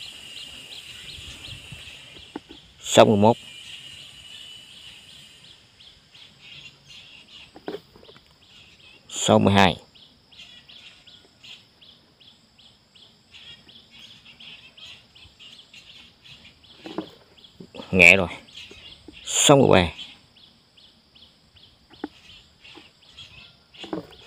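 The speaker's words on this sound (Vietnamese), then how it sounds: "Hiện tại chim chóc đang hót ghê rồi." Birds singing outdoors form a steady, moderately faint chorus throughout, while a voice counts aloud in short bursts over it.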